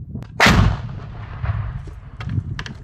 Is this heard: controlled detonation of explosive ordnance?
yes